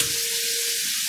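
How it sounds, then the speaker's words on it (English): A red snapper fillet fries in a hot pan, giving a loud, dense, unbroken sizzle for a brief moment with nothing else heard. "Here's our snapper. We'll chuck it in the pan."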